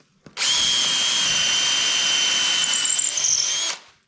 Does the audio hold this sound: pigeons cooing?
no